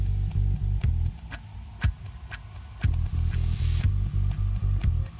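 A bass line from a new song throbs in a low, steady repeating pattern with ticking percussion over it, moderately loud and alone without voices.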